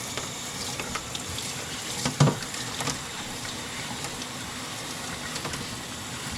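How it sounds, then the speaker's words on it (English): Mini split air filters are rinsed in a laundry room mop sink under a running tap, a steady broadband water hiss with a brief splash partway through. "I'm just going to wash these out in the mop sink that we've got down here in our laundry room"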